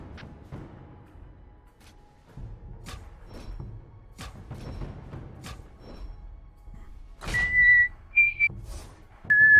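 Whistling during a Battle Block Theater gaming session, a few short clear tonal whistles near the end, loud and close, following scattered thumps and quiet background noise.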